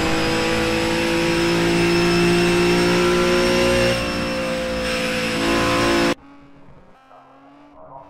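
Loud, steady engine drone from roughly 400-horsepower race cars at Silverstone in the racing simulator rFactor 2, sustained at high revs, then cutting sharply to a quieter background hum near the end.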